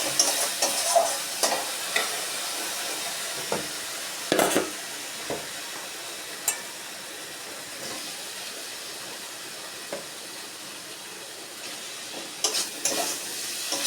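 Steady frying sizzle with scattered scraping and stirring clicks from a utensil in a pan of fried potato and pointed gourd, close and fairly quiet, no talking.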